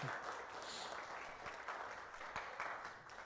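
A church congregation applauding, a faint, steady wash of many hands clapping with a few sharper claps standing out.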